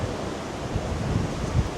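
Strong wind gusting around a cruise ship nearing Wellington, New Zealand, a steady loud roar with low buffeting rumbles on the microphone, swelling in gusts and no talk.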